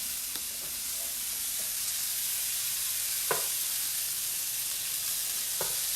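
Food fries in a pan with a steady, bright sizzle throughout, broken by a few soft scrapes and taps as it is stirred and moved around.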